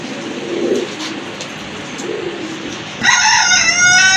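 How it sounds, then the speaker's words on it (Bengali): A pair of large Boro Payra fancy pigeons coo softly and repeatedly close by, then a louder, brighter bird call rises in the last second, with a rooster-like crow behind it. "হিউজ সাইজের এক জোড়া কবুতর"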